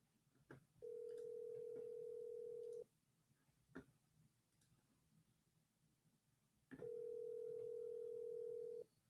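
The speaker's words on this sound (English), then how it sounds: "I'm dialing the first one." A telephone dial tone sounds twice as a steady hum, each lasting about two seconds, while a call is being dialed; faint clicks and low background noise fill the gaps between the tones.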